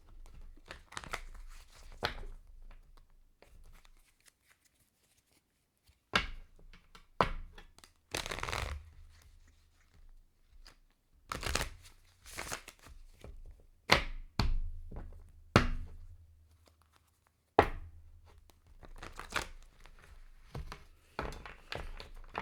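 Papery flicks, slaps and crinkles of tarot cards being shuffled and handled, in short irregular bursts with brief quiet gaps, close and fairly soft.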